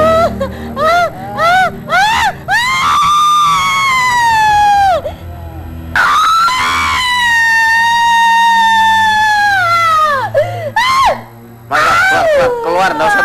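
A person screams repeatedly during an exorcism-style ruqyah session, long loud piercing wails with shorter shrieks between them, very close and dominant, with brief pauses and background voices.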